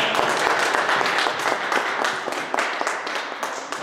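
A church congregation applauds together in acclaim of Jesus, with dense, steady clapping from many hands that holds at an even level throughout and dips slightly at the end.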